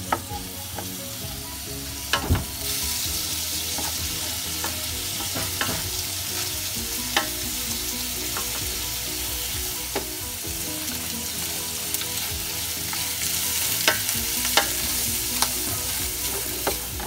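Shrimp sautéing with onion and garlic in a wok for miki bihon guisado, a loud continuous sizzle broken by sharp metal spatula taps and scrapes as the pan is stirred, no talking.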